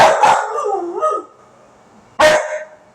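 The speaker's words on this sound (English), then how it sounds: "I don't know why she's barking." A dog barks loudly up close, a sharp bark trailing into a whiny howl, then another abrupt bark after a short pause.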